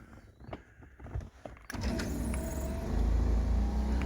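A sky top moonroof motor in a 1988 Lincoln Town Car limousine, a faint mechanical whir and clicks that jump into a loud, steady grinding drone that keeps building.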